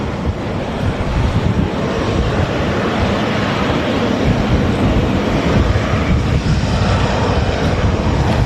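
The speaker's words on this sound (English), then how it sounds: "The Qatar 777-300ER from Doha just arrived here at Manchester Airport." A Qatar Airways Boeing 777-300ER, arrived from Doha, rolls in at Manchester Airport with a steady, loud jet engine roar mixed with wind buffeting the microphone, holding constant throughout with no talk.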